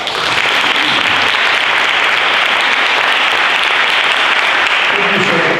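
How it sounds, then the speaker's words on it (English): A large audience claps loudly and steadily at a talk by sleep expert Dr. W. Chris Winter, a dense, sustained round of applause that holds at full strength throughout. "let's just give him a round of applause"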